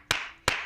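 Two sharp, close hand claps about a third of a second apart, each with a short ringing room tail, with no voices over them.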